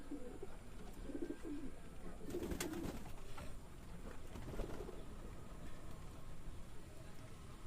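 Soft, low pigeon coos repeat a few times against a steady background hiss, faint and fairly close, with a brief voice in the mix.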